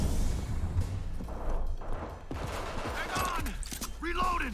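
Pistol fire in the video game Cyberpunk 2077 rings out in rapid, close bursts during a firefight, with someone talking over the shots toward the end.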